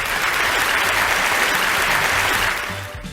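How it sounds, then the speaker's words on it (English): A school celebration assembly audience claps in sustained applause, a dense patter of many hands that holds steady and then thins out near the end. "Let's give Sammy a great big round of applause."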